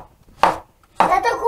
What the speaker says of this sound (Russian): Их надо нарезать вот таким вот кубиком.